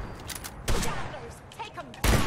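Turrets firing in Fallout 4, bursts of close, heavy gunfire with sharp blasts at the start and near the end, with game effects in between and no talk.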